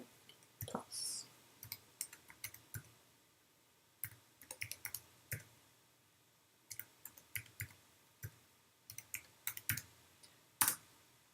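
Numbers being typed on a computer keyboard into a calculator, heard as scattered, close, crisp key clicks in short irregular bursts with brief pauses between entries.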